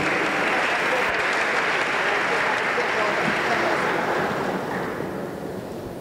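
Dense, loud applause from an audience at a corporate awards ceremony, a continuous roar of clapping that tapers slightly toward the end.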